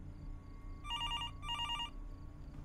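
Old-style telephone bell in the horror game Fears To Fathom, two ringing bursts over a low ambient hum, moderately loud and alone with no talk.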